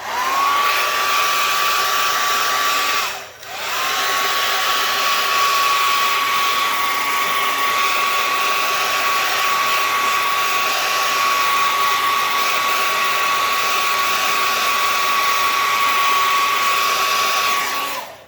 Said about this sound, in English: Let me hit it with the air dryer.